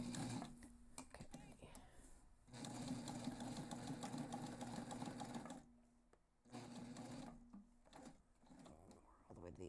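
A close sewing machine stitches a backpack seam in steady humming runs, stopping and restarting a few times, with a person talking in between.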